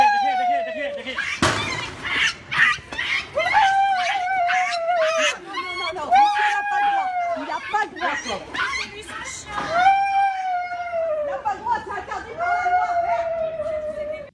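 A dog howls and yelps in long, rising and falling wails, broken by sharp cries, with human voices mixed in.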